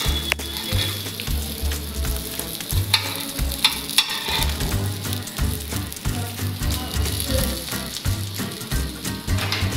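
Vegetable cutlets fry in oil in a pan over low gas, a continuous close sizzle and crackle with stirring and flipping knocks throughout, without any talking.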